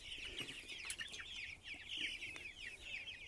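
Month-old chicks kept outdoors in a vegetable planter give off a constant stream of high, quiet peeping and soft chirps, many small calls overlapping throughout.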